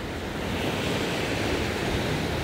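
Ocean waves at a quiet, little-visited beach, a loud, steady broadband wash of surf with some wind noise on the microphone.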